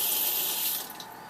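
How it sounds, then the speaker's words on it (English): Water rushes steadily through newly connected copper supply pipes fitted with push-on fittings and ball valves, a close, broadband hiss like an open faucet that eases off slightly near the end, with no talking. "The water's back on."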